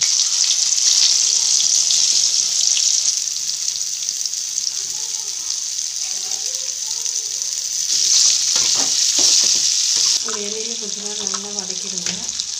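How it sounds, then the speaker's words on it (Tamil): Mustard seeds and amla frying in hot oil for amla pickle, a loud steady sizzle with crackling and stirring throughout, with faint talk in places. "கடுகு நல்லா பொரியட்டும்னு சொல்லிட்டு நம்ம இந்த நெல்லிக்காவை போட்டுடலாம்."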